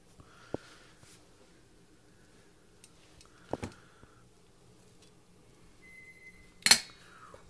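A Storm F2 popping kettle set on a Wood Gas Mark II stove gives a few sparse metallic clinks and taps with long quiet gaps between them and one sharper, louder clink near the end.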